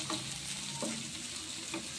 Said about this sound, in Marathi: तांबूलसर रंगावर असा हा कांदा आपल्याला परतून घ्यायचा आहे